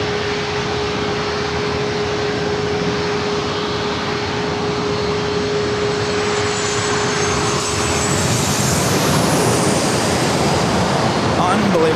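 Southwest airliner on approach to San Diego airport passing close overhead beneath the flight path, a broad jet roar that holds steady then swells louder near the end, with a rising whine as it passes.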